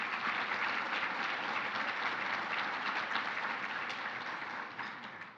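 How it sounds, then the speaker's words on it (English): A conference audience at a sustainability summit applauds its leaders with steady, dense clapping that holds evenly, then fades slightly at the end; no talking. "Let's give them a round of applause for their leadership."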